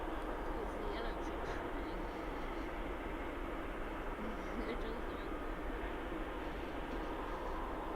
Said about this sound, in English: There's another aircraft just behind that as well.